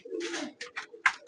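Pet pigeons in a loft coo close by, giving several low, throaty rolling calls in short bursts with brief pauses between them.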